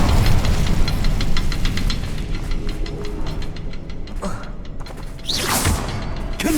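An Incendio fire spell is cast in Hogwarts Legacy, a sharp fiery whoosh that flares near the end over a steady rumbling, clattering game soundscape.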